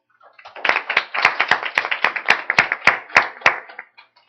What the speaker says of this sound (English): can we have a brief round of applause for our speakers and in particular our residents